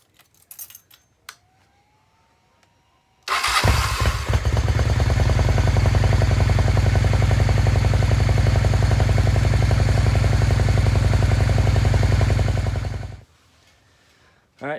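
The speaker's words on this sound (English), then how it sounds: "I'm gonna go ahead and run the bike a little bit and see if we can get it to burn off the rest of the gas" A 1993 Honda Shadow 600 motorcycle engine starts abruptly and runs steadily at a loud, close idle with a deep, even rumble for about ten seconds before cutting off, with faint garage clatter before it starts.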